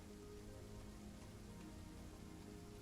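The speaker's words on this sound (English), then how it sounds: "It's slightly raining now on your cloaks or on your pauldrons" Light rain at night falling steadily on a surface, a soft continuous patter with fine, faint drops throughout and no voices.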